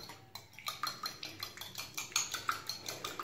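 Seafood salad ingredients tossed with a utensil in a bowl, dressed with salt and oil, giving a steady run of close, rhythmic clinks and scrapes, with no voices.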